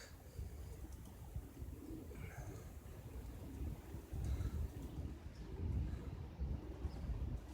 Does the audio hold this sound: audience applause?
no